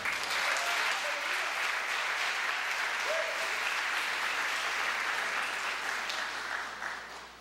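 A church congregation applauds together in steady, dense clapping that fills the whole stretch and tapers slightly at the end.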